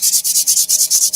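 Rhythmic sanding strokes, about a dozen quick rasping passes back and forth in steady succession, close and fairly loud with no talking.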